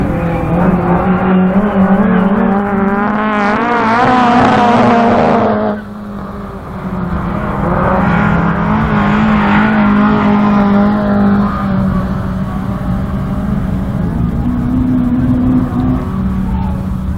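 Autograss race cars roar loudly and continuously around a dirt track, engines revving and shifting pitch as they pass close by, with a brief dip before the roar builds again.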